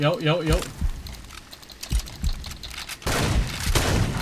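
Gunfire in the video game Far Cry 2: scattered single shots and thumps, then a dense, sustained burst of firing near the end, fairly close and harsh.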